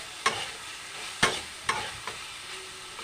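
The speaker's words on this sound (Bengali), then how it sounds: "এখন ছড়াগুলি দিয়ে দেবো ভালো করে কষে নেবো" Taro stolons sautéing in spiced masala in a pan, a low sizzle broken by a few sharp spatula scrapes and taps, close and moderately loud.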